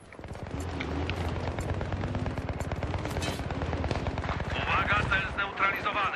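Sustained automatic gunfire in the first-person shooter Battlefield 3, dense rapid shots in a multiplayer match, building to louder blasts near the end, with someone talking over the combat.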